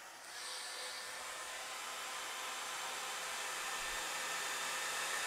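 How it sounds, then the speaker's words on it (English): Hair dryer on medium heat with the fan on high, running off an EcoFlow River Pro portable power station, gives a steady, close, uninterrupted broadband whoosh that swells slightly at the start and then holds level. "Let's go medium heat,"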